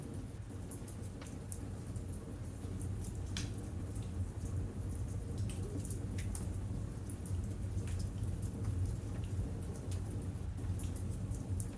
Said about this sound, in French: Dehors, l'obscurité s'accentue, et la pluie aussi.